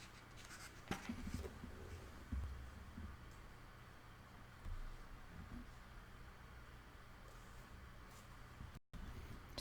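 Pen writing on paper during a calculus lesson, quiet scratchy strokes against a soft background hiss, with a brief dropout near the end.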